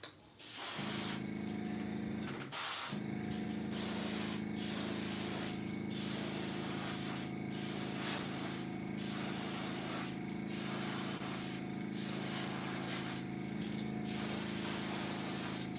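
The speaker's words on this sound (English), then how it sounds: "Let's get to spraying." An airbrush sprays a white base coat thinned with reducer onto jointed wake crankbait fishing lures, a steady close hiss broken by a dozen short pauses as the trigger is released and pressed again.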